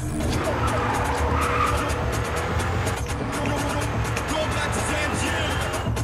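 A car in the video game Battlefield Hardline drives with a revving engine and tire skids, heard continuously while people talk over it.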